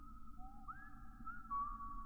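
A whistle sound effect in the video game Lisa: The Painful: a faint, clean two-note tone that steps upward partway through and holds, with no talk over it.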